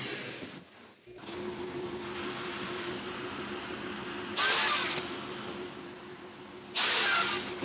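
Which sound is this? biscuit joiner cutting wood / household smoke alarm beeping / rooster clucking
biscuit joiner cutting wood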